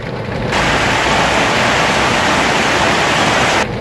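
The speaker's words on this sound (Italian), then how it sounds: "piove che guarda" Heavy rain pounds on a camper during a hail and rain storm in Lombardy, a dense, loud roaring hiss that cuts in abruptly after half a second and stops just as suddenly near the end.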